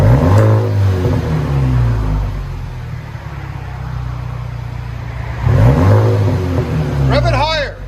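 A 2011 VW CC R-Line with a 2.0L turbo engine and a Flowmaster Outlaw exhaust revs loudly up and down several times at close range. A steady idle drone runs between the revs, and a voice speaks near the end.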